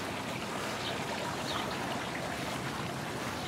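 Water from a garden hose splashes steadily onto knockout rose bushes outdoors, a continuous broadband spray and trickle with no pauses, close and moderately loud.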